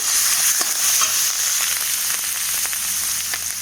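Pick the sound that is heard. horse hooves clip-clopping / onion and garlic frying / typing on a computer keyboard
onion and garlic frying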